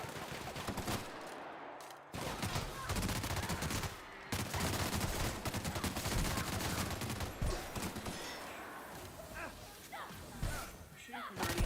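Bursts of gunfire from The Outer Worlds while the character runs, loud and dense over several seconds, with thuds and impacts mixed in and a voice talking underneath.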